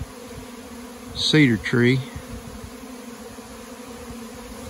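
A honeybee swarm gathering in a cedar tree during a September fall swarm hums as a faint, steady buzz throughout, briefly covered by someone speaking close to the microphone.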